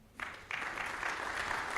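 An audience at a training-programme launch event breaks into applause, a thin patter that swells after a moment into steady, even clapping from a crowd at moderate distance.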